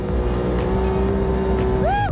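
A rear-wheel-drive buggy revs hard as its rear wheels spin without grip, a loud close engine drone that rises sharply in pitch at the end, with no talking.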